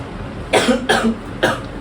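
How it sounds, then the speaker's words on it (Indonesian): Three harsh coughs close to the microphone, the first two in quick succession and the third after a short pause. "Masih batuk-batuk terus ya?"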